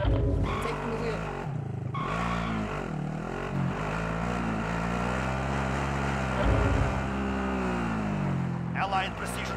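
An engine drones steadily through a vehicle drive in Warzone, with a rising and falling pitch and loud, close mechanical noise, while voices talk over it.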